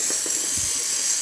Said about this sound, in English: we'll still be able to see the steam coming out of the machine